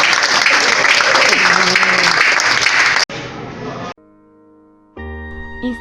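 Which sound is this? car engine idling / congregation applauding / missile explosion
congregation applauding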